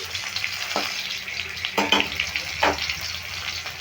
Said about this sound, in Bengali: এবার এই ফোড়নটা একটু ভালো করে ছড়িয়ে নিচ্ছি